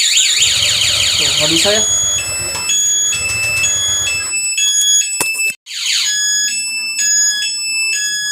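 A Nine brand alarm fitted to an older Honda Vario motorcycle wails loudly and close by, cycling through shifting electronic tones with a brief drop-out midway, while someone speaks over it.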